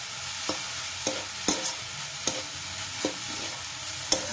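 Ground spices with turmeric are stirred in a frying pan for a cauliflower paratha filling, giving a steady soft sizzle broken by about six sharp scraping strokes of the spoon at an uneven, unhurried pace.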